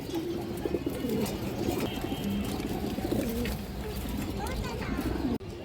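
Pigeons coo in low, repeated rolling calls from a loft crowded with birds, with a voice talking over them throughout and a sharp clunk near the end.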